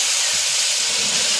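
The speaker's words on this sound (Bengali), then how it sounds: "এবার কিন্তু চিংড়ি মাছের মধ্যে এই যে এই ঝোলটা দিয়ে দেবো।" Gravy poured over prawns frying in a pan makes a loud, steady, close hiss of sizzling that holds without a break.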